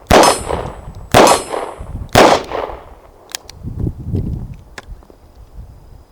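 Three loud, sharp shots from a Smith & Wesson 442 revolver at an even pace, each with a ringing metallic ping off steel targets, followed by softer shuffling and a couple of faint distant pings.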